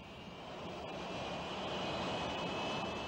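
The Snecma C-450 Coléoptère, a 1959 annular-wing vertical take-off jet on its first flight, gives off a steady, broad engine roar with a thin whine laid over it. The roar holds at an even, moderate level throughout, with no voices.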